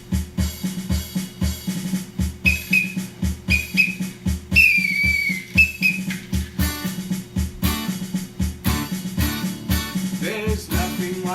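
A bright melodic whistle carries a tune over a steady rhythmic backing track with bass and percussion, loud and close throughout.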